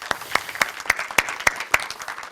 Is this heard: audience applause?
yes